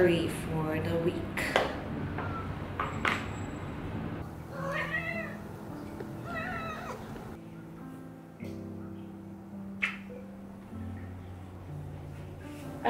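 Cats meowing indoors, with several distinct meows scattered over a steady low background hum.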